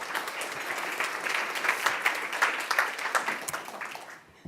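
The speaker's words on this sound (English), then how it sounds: "So let's now invite Johanna on stage with applause." An audience at a Finnish health data event applauds to welcome a speaker onto the stage, a steady burst of many hands clapping that swells briefly before tapering off.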